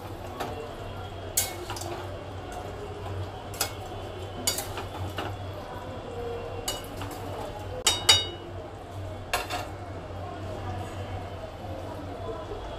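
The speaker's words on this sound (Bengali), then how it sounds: "মিষ্টি দেওয়ার পরও আর একবার নেড়ে চেড়ে নিচ্ছি।" A fish-head shukto is stirred in a pan, giving scattered soft scrapes and clinks of a spoon against metal over a steady low kitchen hum, with a few sharper knocks spaced irregularly.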